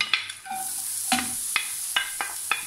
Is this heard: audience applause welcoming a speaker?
no